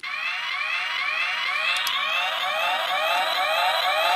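A loud electronic toy siren wails continuously, its pitch sweeping up over and over in quick, even cycles.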